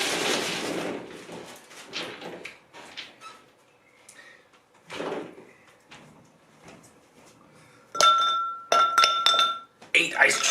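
Ice cubes drop and clink into drinking glasses in a few bright, ringing bursts late in the sequence, after quieter handling sounds and some talking while coffee drinks are being prepared.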